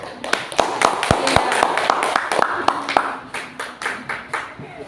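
Primary school pupils in a classroom clap their hands in a quick rhythmic pattern of sharp, close claps over several seconds, with voices murmuring underneath.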